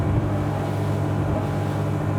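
A Dellapasqua DC Seven motorboat engine running at about 6,000 RPM at around 38 knots, a loud steady drone with rushing water and wind noise throughout, no speech.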